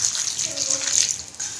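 A small amount of water pours into potato and spinach pakora batter in a home kitchen, a bright trickling splash that sputters, briefly breaks off and resumes.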